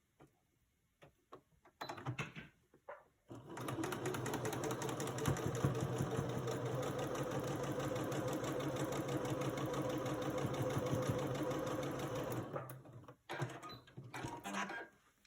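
A sewing machine runs steadily for about nine seconds while stitching quilt pieces from a spring mini mystery kit, with a few short bursts before and after, fairly quiet and with no talk over it.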